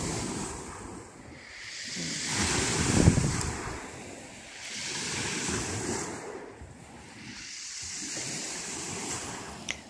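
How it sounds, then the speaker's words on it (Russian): Sea waves from the Mediterranean at a beach in Kemer roll in and wash up the shore in slow swells, rising and fading about three times, with wind buffeting the microphone. "Послушаем шум моря."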